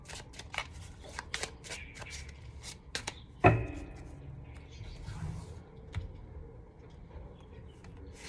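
Oracle cards shuffle in quick, soft, close riffles and flicks that come in uneven clusters, with one sharper slap partway through and quiet handling noise after it.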